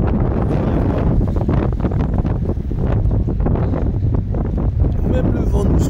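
Strong wind battering an outdoor microphone in cold, drizzly weather, loud low rumbling and buffeting that never lets up, with gusts surging throughout.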